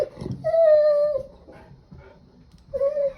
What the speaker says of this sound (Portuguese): Tentando fazer os cachorros pararem de gritar.